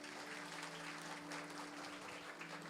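A church congregation claps loudly and continuously during a sermon, a thick, sustained roar of hands with a steady low hum beneath it.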